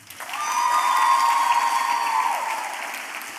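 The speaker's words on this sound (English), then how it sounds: "Let's give her a round of applause." Audience applause rises and holds steady for about three seconds after an Arangetram dance recital, a dense wash of clapping hands with a sustained tone running beneath it, then easing off at the end.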